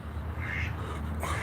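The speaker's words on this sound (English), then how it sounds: "Here come the duck." A duck quacks outdoors, a few short, raspy calls heard fairly close over a steady rumble of background noise.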